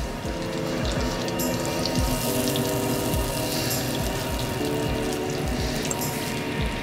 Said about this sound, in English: I can hear the butter sizzling